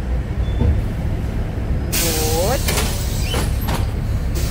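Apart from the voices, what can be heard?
inside a moving city bus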